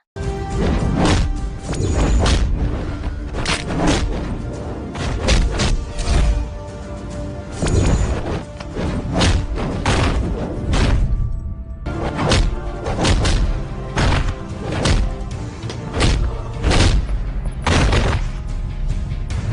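Fight blows in a scene from the Bollywood film Dilwale land as a dense, loud series of heavy thuds, whacks and crashes, rapid and continuous over a full soundtrack.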